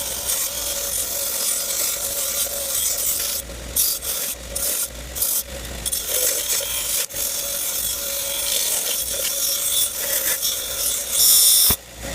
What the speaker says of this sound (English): gonna do it on a little wire brush, some scraping on these things